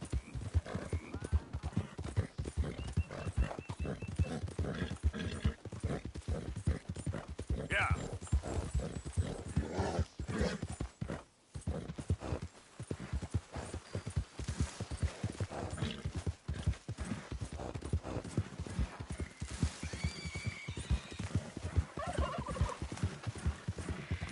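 Horse hooves gallop in Red Dead Redemption 2, a fast, steady clip-clop that runs on throughout with a brief break partway, and a voice speaks now and then over the riding.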